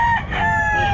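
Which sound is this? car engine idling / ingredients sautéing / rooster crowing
rooster crowing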